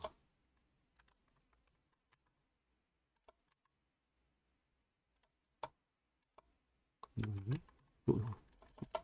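Faint, sparse taps on a smartphone's on-screen keyboard, coming as scattered single clicks in near silence and then a brief burst of louder handling noise toward the end.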